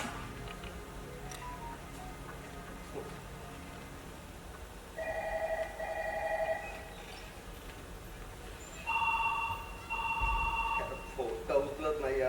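A telephone rings twice without being answered, two bursts of bright trilling rings set apart by a pause, over a quiet stage background with murmured voices.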